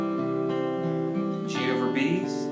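Guitar Pro 6 software playback of the verse of Kansas's "Dust in the Wind," a steady stream of sustained tones with fingerpicked notes layered on top, continuous and moderately loud.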